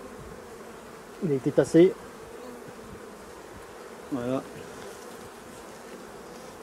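Honeybees hum steadily at an opened beehive during a hive inspection, a soft, continuous buzzing drone under brief spoken remarks.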